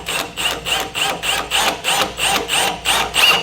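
A drill bores a pilot hole into the frame of a 2019 Ford Transit for a Curt trailer hitch, grinding in close, regular pulses about three times a second with no talk.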